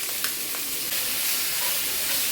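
Thin steak cubes sizzle in a hot pan, making a steady, loud hiss that fills the whole moment with only a couple of faint clicks near the start.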